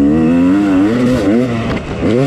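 A Yamaha YZ250X two-stroke dirt bike rides through sand, its loud, close engine note rising and falling in quick revving swells over a short burst.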